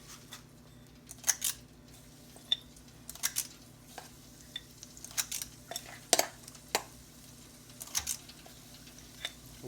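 A melon scooper scrapes and clinks as hush puppy batter is scooped into a fryer basket, with sparse sharp metallic taps over a low, steady background hum of the fryer.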